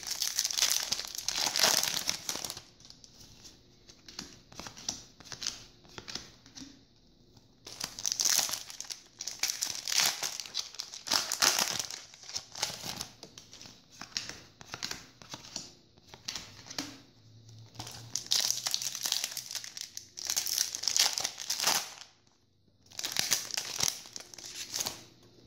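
Trading card booster packs from the Fusion Enforcers set are torn open by hand without scissors, giving repeated close bursts of crinkling, ripping foil wrapper separated by brief quieter gaps.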